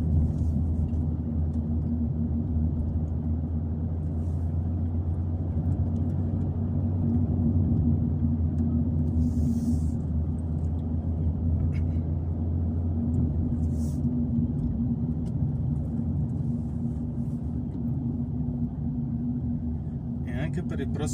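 A car descends the Gavia mountain pass, its low engine and road rumble droning steadily throughout while someone talks over it.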